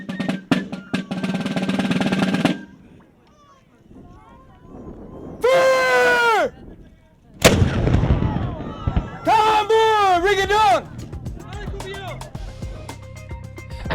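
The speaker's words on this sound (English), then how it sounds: "Let's go through and fire this cannon" A loud cannon boom at the Fortress of Louisbourg bursts out midway, surrounded by noisy rumbling and shouted, sung-out voices; people talk and cheer around it.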